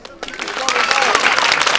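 A crowd bursts into applause that swells and holds steady, dense clapping filling the room after a brief quiet start.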